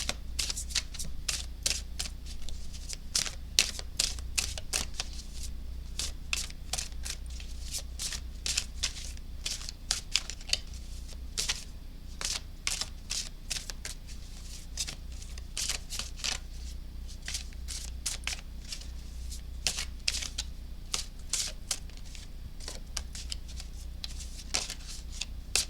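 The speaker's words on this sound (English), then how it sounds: "So let's go ahead and let's draw some cards." A deck of tarot cards is shuffled steadily for a pick-a-card reading, a close run of quick riffling and sliding flutters repeating for the whole stretch, with no talk over it.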